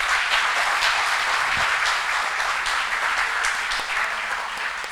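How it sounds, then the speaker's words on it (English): A crowd at a university book launch claps steadily in dense, sustained applause that carries on throughout, loud and even, with no talking over it. "So a huge round of applause for the student organizers for this particular event."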